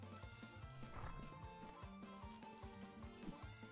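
A horse galloping in the ranch video game Ranch of Rivershine, a rapid regular rhythm of hoofbeats with a whinny, set against a continuous music bed and heard clearly with no talk.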